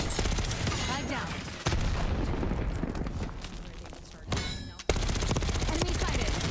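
Rapid machine-gun fire and explosions from the video game Black Ops 6 fill the clip loudly, with dense bursts broken by a couple of brief pauses and some voice chatter.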